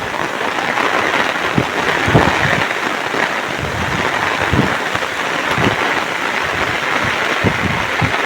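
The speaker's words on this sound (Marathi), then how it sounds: "मला पाऊस भिजवणार आहे घरात जाईपर्यंत" Steady rain falling in hilly woodland, a dense continuous hiss with wind-driven gusts and scattered heavier drops, fairly loud and close throughout, with no voices.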